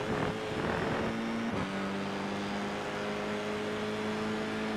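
Formula 4 race car engine in the iRacing sim at Suzuka West with chicane, a loud continuous whine dropping in pitch under braking and downshift, then holding steady back on the throttle, no talking.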